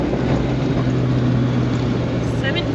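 A 1987 Suzuki Samurai with a 1.3 engine and swapped carburetor drones steadily at low RPM while climbing a hill in high range, a constant low hum with a voice heard over it.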